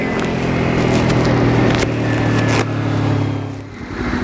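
A motorcycle engine runs loud and close, holding a steady throttle tone with a slight rise before easing off near the end. No voices are heard.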